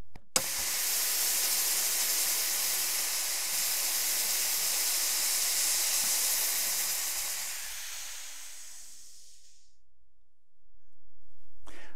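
Nitrous oxide blasts through a simple fogging nozzle with a pin in the aperture during a rocket test, a loud steady hiss lasting about eight seconds that fades and cuts off, followed by near silence.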